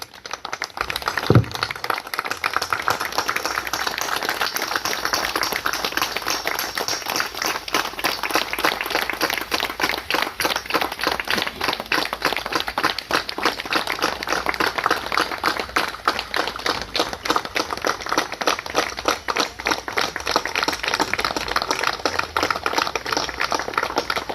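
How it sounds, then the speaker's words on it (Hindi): An audience standing and applauding for Swarnkar sahab at a gathering, sustained dense clapping that stays even and strong for over twenty seconds. "कम से कम आधा मिनट हम लोग खड़े होकर ताली बजाएं स्वर्णकार साहब के लिए"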